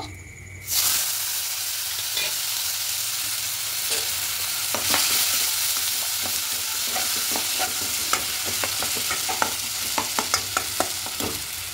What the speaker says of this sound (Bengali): টমেটো পেস্টটা খুব ভালো করে একটু এরকম কষিয়ে নিয়েছি